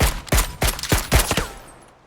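Rapid gunfire bursts in PUBG Battlegrounds, shot at a player on a boat about 437 metres away, five or six sharp loud reports in quick rhythm that trail off into a fading echo.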